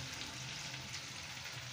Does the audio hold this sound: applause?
no